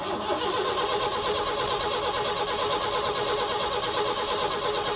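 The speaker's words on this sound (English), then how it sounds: "Trying to start the car." A car engine cranks repeatedly, trying to start, with a steady whirring starter grind held at even loudness for several seconds, close up and alone.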